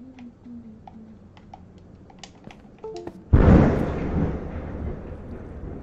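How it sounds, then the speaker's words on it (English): A loud, sudden thunderclap in a Minecraft stream cracks in about midway and then rolls on as a long, heavy rumble, following quiet keyboard typing and scattered clicks. "That Thunder scared me."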